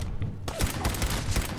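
Gunfire in the video game Fallout 4 bursts out in a rapid volley of shots after a brief pause, with people talking over it.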